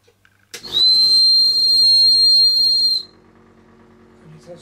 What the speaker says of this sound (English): And that's quite a good whistle.